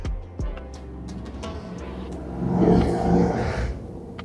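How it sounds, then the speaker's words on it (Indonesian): A motorcycle engine revs and passes by in a Netflix episode played through a budget phone's single speaker, rising to a louder rumbling whir near the end of the clip, with no talk. "Ada suara motor."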